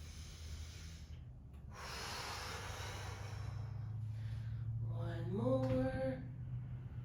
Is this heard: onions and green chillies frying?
no